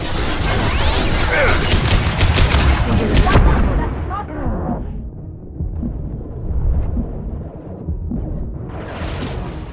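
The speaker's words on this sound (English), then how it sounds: "Watch out, flashbangs!" Flashbang grenades go off during Mass Effect 2 combat in a dense stretch of loud booms, crashes and gunfire. The barrage lasts about five seconds before a muffled ringing lull follows, then the battle noise swells back.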